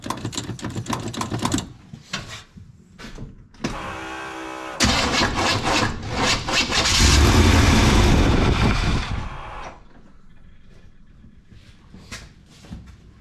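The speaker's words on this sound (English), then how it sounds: "I'm gonna go ahead and crank it over and we'll see what she does. If we get lucky, fire right up." A 1977 Chevrolet Malibu V8 cranks with a rapid starter whir in bursts, then catches and fires into a loud, rough idle that swells before settling to a steadier lower rumble, close up with no talk.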